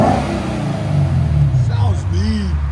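A 2015 Lexus RC F with a 5.0 V8 and APEXi mufflers revs loudly and close by, the exhaust note rising and falling across the rev, while people talk over it.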